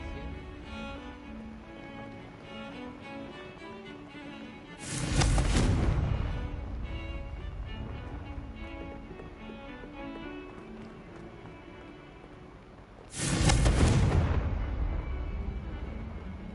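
Confringo blasting spell explosions in Hogwarts Legacy, two loud booming bursts several seconds apart over steady in-game background music, each with a rumbling tail, no talk.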